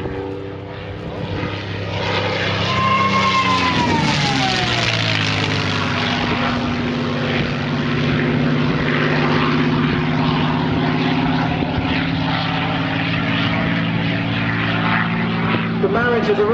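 A Rolls-Royce Merlin engine drives a Mustang fighter plane overhead, its loud, sustained propeller drone rising and shifting in pitch as it passes, with a voice speaking over it.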